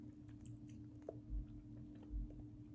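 Soft, close chewing of a homemade Spanish bread roll, crisp on the outside and soft inside, with a couple of muffled bites and faint crunches in a quiet room.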